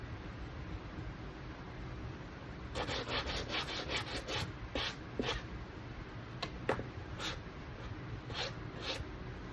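A sanding sponge rubs over a rough wood pallet in a series of short, scratchy strokes. The strokes are close and steady, starting after a quiet moment and coming in uneven bursts.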